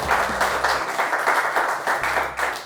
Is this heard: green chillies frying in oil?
no